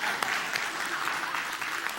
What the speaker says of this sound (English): Keep clapping a little more.